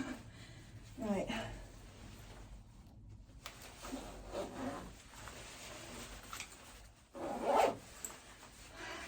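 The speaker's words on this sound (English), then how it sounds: "I can still zip it up, but it is very tight." A tight jacket is zipped up in a few short rasping bursts of the zipper, close and fairly clear, while someone talks.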